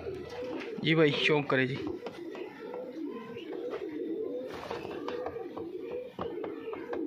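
Punjabi Malwai pigeons, including a red Chinna male, give soft repeated coos close by while someone talks over them.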